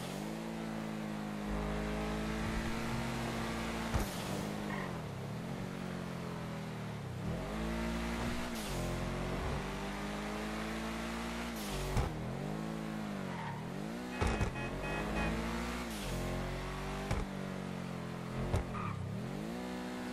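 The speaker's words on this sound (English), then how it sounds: "The sound that engine makes on the freeway." A car engine in the video game GTA 5 drones steadily on a freeway, pitch rising and dipping through repeated gear shifts, with occasional short bursts; no talking.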